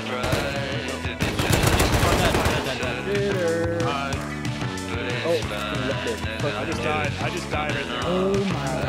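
Gunfire in the game Rust: a dense burst of rapid automatic fire early on, then scattered shots under background music, with players talking throughout.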